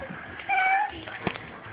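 A cat high on catnip lets out a loud, drawn-out meow in the middle of the clip, with a quieter mew just before it and a short sharp sound near the end, close by and with no talking.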